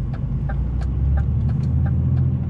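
A truck drives along a road, its engine a steady low rumble close up, with faint ticking and rattling noises from the cab riding over it.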